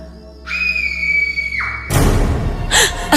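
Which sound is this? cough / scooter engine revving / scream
scream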